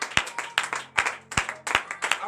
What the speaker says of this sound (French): Donnez de vive acclamation au Seigneur.